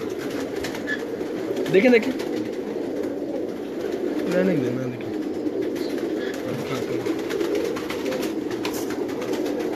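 Pigeons at a Karachi fancier's loft coo in soft low bursts throughout, with a couple of louder calls standing out, while people talk nearby over them.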